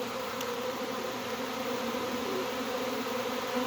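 A massive cluster of honey bees at a hive entrance, early in swarm season, fanning their wings and making a dense, steady buzz that holds evenly and close throughout.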